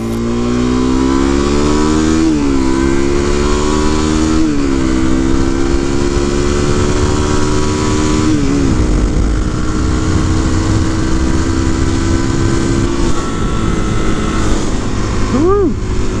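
A supermoto motorcycle engine runs steadily and revs up and down in several rising and falling sweeps, loud and close throughout, with a sharper high rev near the end.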